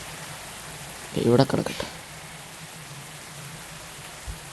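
Rain falls in the Bus Simulator Indonesia driving game as a steady hiss throughout, briefly overlaid by someone speaking.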